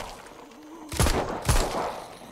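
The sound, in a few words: gunfire in video game Arizona Sunshine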